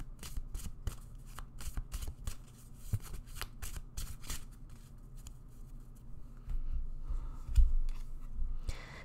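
Playing cards being shuffled for a tarot pick-a-card reading, repeated quick riffling bursts in a close, quiet room, crisp and rhythmic, no talking.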